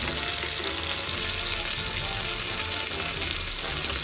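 Chicken frying with chili garlic sauce in a pan, a dense, even, close sizzle that stays loud throughout without breaks.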